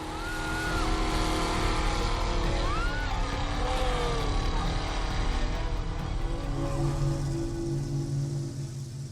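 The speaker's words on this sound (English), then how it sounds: "once Alexandre starts up the engine" A 1,200-horsepower monster truck engine fires up and revs at a French monster car show, a broad rising roar with whining pitch sweeps, heard from a short distance against crowd and outdoor noise.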